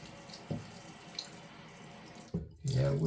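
Tap water runs into a sink while a safety razor, a Gillette Super Speed, is rinsed, starting with brief splashes and swelling into a steady, close gush near the end. A few faint background sounds come and go, with no clear talk.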